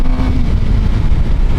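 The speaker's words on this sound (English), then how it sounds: "that just the theater of that induction noise to come along with you for the ride. It sounds so good even on blip downshifts" A Suzuki GSX-R 750 sport motorcycle's engine roars loud and close with a throaty induction growl, dipping briefly in pitch as it blips down through a gear.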